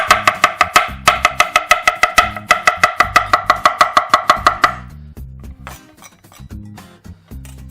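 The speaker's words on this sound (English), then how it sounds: "I'm just gonna finish chopping up that zucchini" A knife chops zucchini rapidly and rhythmically on a board, dozens of quick even strokes, then a few slower scattered cuts.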